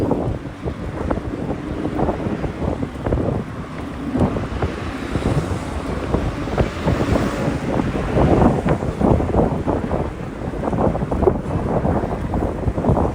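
Strong wind blasts across the microphone while cycling the Jamaica Bay loop in the Rockaways, New York City, as a continuous loud, gusting roar over the whole stretch with no talk.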